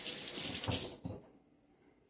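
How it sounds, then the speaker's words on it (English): Tap water runs steadily into a sink during handwashing, a loud close gush for about a second that then cuts off, leaving a faint trickle and quiet. "let me wash my hand."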